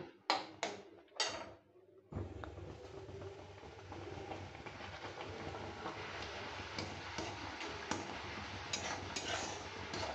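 Mango chutney boils in a pan as it is stirred, giving a continuous bubbling, sizzling hiss with small spoon scrapes and clicks. Several sharp knocks come first, then the steady simmering noise runs on without talk.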